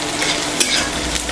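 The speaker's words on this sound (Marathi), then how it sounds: "मी आता याच्यात तेल टाकलं, जिरे टाकले, मोहरी टाकली आणि आता कांदा परतते" Onion sautés in hot oil with cumin and mustard seeds, giving a short burst of loud, close sizzling with a brief stirring scrape partway through.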